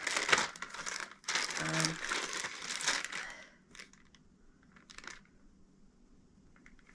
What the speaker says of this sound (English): They're just a miscellaneous bag of dice.